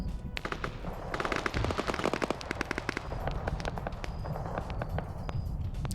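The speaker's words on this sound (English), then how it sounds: "I could have sworn I just heard some CSAT gunfire here." Gunfire erupts in a military video game match: rapid automatic bursts and scattered single shots crack repeatedly, some near and some farther off, in a continuous exchange.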